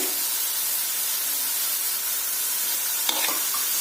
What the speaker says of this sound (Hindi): इनको भी सौटे कीजिए।